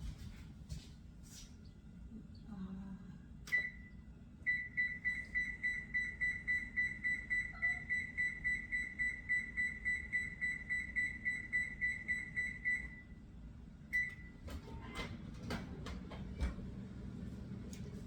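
An oven beeping as it is set, a long run of rapid, evenly spaced high electronic beeps lasting several seconds, preceded and followed by single short beeps over a quiet kitchen background with a few clicks.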